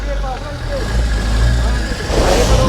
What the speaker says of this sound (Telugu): చక్రాలు తిరిగిపోతున్నాయి కానీ బండి ముందుకు వెళ్ళట్లే.